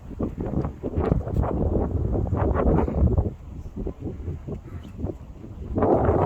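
Wind gusting over the Achasan mountain trail near 348 m Yongmabong peak in Korea, heavy buffeting rumble on the microphone that rises and falls in waves, loud and close throughout.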